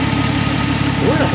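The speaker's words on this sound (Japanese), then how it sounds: "まあそんなに凶暴なアイドリングではないですね。" A turbocharged 1980 Nissan Skyline (KGC210) engine idles with a steady low rumble, close and continuous, with a brief voice briefly heard over it.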